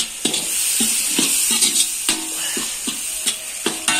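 Salt and two chopped tomatoes stirred in a cooking pot for Makar Sankranti khichdi, a ladle scraping and knocking in a steady rhythm of repeated clacks over a faint sizzle, close and fairly loud, with no voices.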